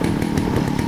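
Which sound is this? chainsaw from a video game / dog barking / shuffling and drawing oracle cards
chainsaw from a video game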